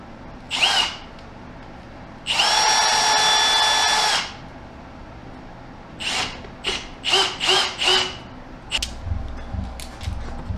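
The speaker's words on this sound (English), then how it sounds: "When you're driving screws in to go through an angle on a board," Power drill driving screws into wood boards for a yurt roof compression ring: one short whir, a longer steady run, then a string of quick bursts, close and loud with no talking.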